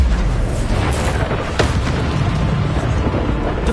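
A Bombarda blast spell explodes in Hogwarts Legacy, a loud, dense rumbling burst with deep booming low end that fills the whole moment without pause.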